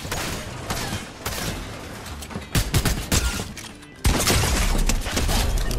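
Rapid bursts of gunfire in Fortnite, loud and close, with dense volleys and sharp cracks running through the whole stretch and a heavier burst near the end.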